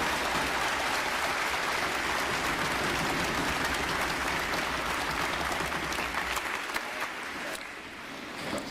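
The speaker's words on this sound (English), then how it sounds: "How about a round of applause for all our award recipients?" A crowd applauds steadily at a U.S. Navy boot camp graduation ceremony, honoring the award recipients. The dense, even clapping from a large audience sustains for several seconds, then thins and fades slightly toward the end.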